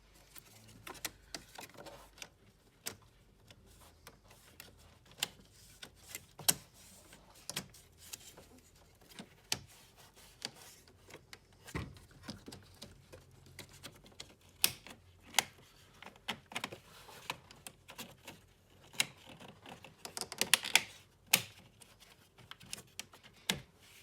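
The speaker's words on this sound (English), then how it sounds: "we're just retightening the T30 Torx screws at the back" T30 Torx screws are retightened at the back of a BMW E46 during a service, producing quiet, irregular ticking clicks and small taps from the tool, faint and close with no voices.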